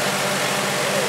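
Scion xB fitted with a 2JZ-GTE Supra engine running at a car event, a loud, dense, steady engine roar with heavy broadband noise that fills the short moment.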